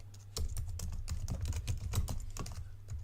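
Fingers tap quickly on a computer keyboard, a close run of crisp uneven clicks over a low steady hum, with no talking.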